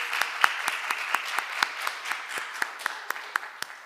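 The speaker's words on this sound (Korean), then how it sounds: "박수 한번 치겠습니다" A small church congregation clapping in a steady, evenly spaced rhythm, individual claps distinct and moderately close, with no talk over it.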